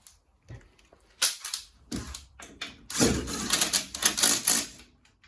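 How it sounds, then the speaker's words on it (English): Impact gun snugging wheel bolts during a Hayabusa-powered Zcars build, giving a couple of loud, short rattling bursts around one and three to five seconds, close by with quieter clunks between. "That's only a couple of little braps with this gun"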